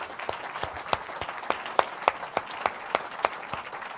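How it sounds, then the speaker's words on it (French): Rhythmic hand clapping from a church congregation, steady sharp claps roughly every third of a second, moderately close, with a diffuse crowd wash beneath and no clear speech. "il mérite des acclamations, frère"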